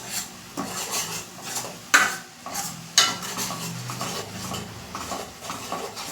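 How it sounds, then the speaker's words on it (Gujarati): A spoon scrapes and stirs a peanut spice masala into okra (bhindi) frying in oil in a pan, with close, continuous scraping and gentle sizzling, punctuated by a couple of sharp knocks against the pan. "આ સિંગવાળી બીજી જે હતી મસાલો તે બધો એડ કરી લેશું એડ કરી અને બરાબર મિક્સ કરી લેશું"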